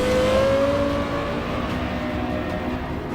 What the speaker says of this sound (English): It is arguably one of the best sounding engines of all time ever.